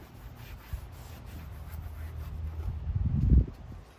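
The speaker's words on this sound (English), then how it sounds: "we're going to come back and just wipe up any of the excess" A cloth rubs and wipes leftover cleaner off surfaces in a car engine bay, a soft close scuffing that builds toward a louder burst of rubbing near the end.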